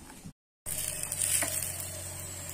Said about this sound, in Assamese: ঘিৰে ভাজিলে বহুত সোৱাদ লাগে খাই